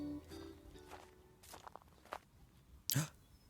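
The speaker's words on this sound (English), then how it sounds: "The sound of footsteps followed by wrestling right beside me." Quiet footsteps shuffle nearby, a few soft steps and rustles ending in one sharper thud, faint and close.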